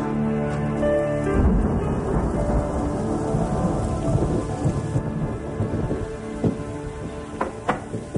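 A thunderstorm rolls on with heavy, continuous rain and deep rumbling thunder, loud and enveloping, with occasional sharper drops and crackles standing out near the end.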